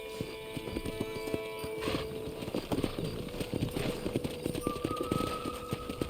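Horses clip-clop and gallop in the Western video game Red Dead Redemption, a rapid uneven run of hoofbeats close by over soft ambient noise, with a brief whinny-like tone near the start.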